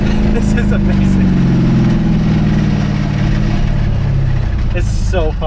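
A 2004 Mercedes W211 E500 4matic V8 running with no muffler or resonator, its exhaust a loud, close, raw rumble that swells and settles through revs, heard without any talk.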